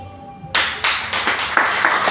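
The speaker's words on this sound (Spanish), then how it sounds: "Fuertes aplausos para nuestro poeta" Audience applause for the poet José Luis Ayala at a Mariátegui commemoration event breaks out suddenly and continues as dense, steady clapping with a few louder individual claps, with no talk over it.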